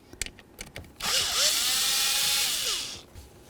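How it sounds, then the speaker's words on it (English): A power drill or impact driver whirs steadily for about two seconds, its pitch rising and falling, while backing out a bolt from a blower motor on a 1992-2000 Chevy Tahoe, followed by a few light clicks. "make sure that you take this off of here by removing this bolt"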